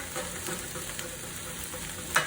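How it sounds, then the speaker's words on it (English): A wooden spoon scrapes caramelized bits of roasted tomato paste and meat from a pot deglazed with wine for rich beef stock, giving a steady close sizzle with soft repeated scraping strokes. "use a wooden spoon and scrape up all the bits, and it will get incorporated into the wine"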